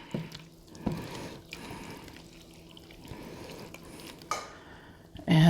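A spoon works through a creamed leek and Italian sausage mixture in a pot, giving soft wet scrapes and a few sharper knocks against the pan, close up with no voices.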